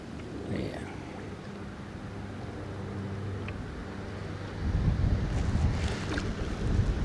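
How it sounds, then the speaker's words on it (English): A rowboat moves along the Gorge waterway with the current, giving a steady wash of water and wind noise that turns rougher and louder toward the end. "I'm currently rowing with the current"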